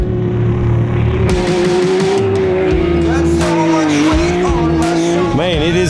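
A Can-Am Maverick X3 off-road side-by-side drives hard at close range, its engine droning loud and steady with revving pitch swings and tire squeals, voices faintly underneath.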